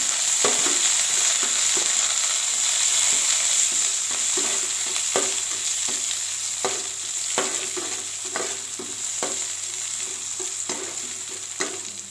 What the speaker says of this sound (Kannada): ಕರಿಬೇವು, ಬೆಳ್ಳುಳ್ಳಿನ ಸ್ವಲ್ಪ ಫ್ರೈ ಮಾಡ್ಕೊಳ್ಳಿ.